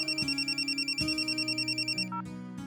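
A telephone ringtone plays an electronic melody with steady repeating pulses that change pitch, loud and close, before cutting to a brief quieter tail. No voices are heard.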